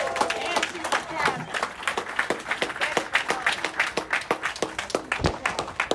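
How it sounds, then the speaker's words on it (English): Crowd applause and cheering at a union commemoration of Bloody Thursday in San Francisco, steady clapping mixed with voices throughout, fairly close and loud. "Give her one more round of applause"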